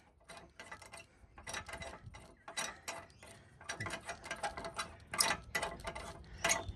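Metal lock pin of a trailer hitch being unscrewed by hand, giving faint clustered ratcheting clicks and scraping turns in short bursts, close by with no talk.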